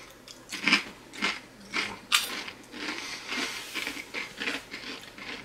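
Crisp bites and crunches of Doritos 3D puffed corn chips, several sharp snaps spaced about half a second apart, close and fairly quiet, with no talking.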